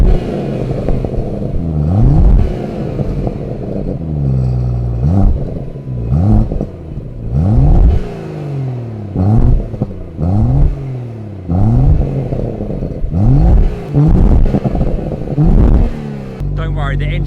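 BMW M140i engine revved repeatedly in sharp bursts, about a dozen quick blips rising and dropping back, loud and close, with occasional voices between them.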